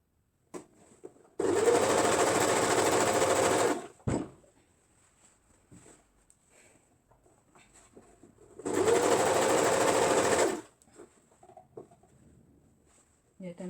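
Sewing machine stitching elastic onto shorts in two loud, close, continuous bursts of rapid whirring a few seconds each, separated by quiet pauses with faint handling noises.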